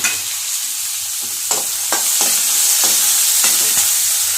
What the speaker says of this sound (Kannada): ಈಗ ಸ್ವಲ್ಪ ಫ್ರೈ ಆಗ್ತಾ ಇದೀನಿ